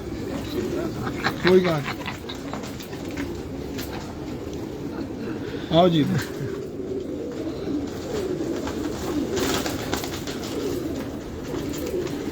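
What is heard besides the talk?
pigeons cooing in loft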